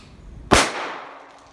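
An Oshi-Boom airsoft impact grenade goes off once with a sharp, loud crack outdoors, followed by a short fading tail.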